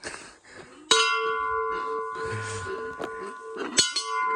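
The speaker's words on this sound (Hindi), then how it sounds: "बजाओ घंटी।" A bright metal temple bell in an Apatani tribal village in Arunachal Pradesh is struck twice, each clang ringing out with a long sustained tone, amid faint background murmurs.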